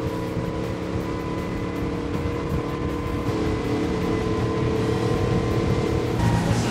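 A Honda BF350 V8 outboard motor running at 4,100 RPM, giving a steady, even drone with a low rumble that holds throughout, accompanied by wind noise and no talk.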